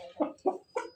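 A hen clucking close by in a village yard, three short throaty clucks spaced evenly across a second, with no voices over them.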